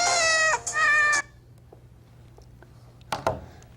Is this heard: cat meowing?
yes